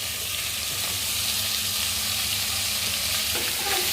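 Carrot and potato sizzle in a pan with tomato, cooking for a foxtail millet upma. The hiss is dense and constant throughout, close and loud, and no voice is heard.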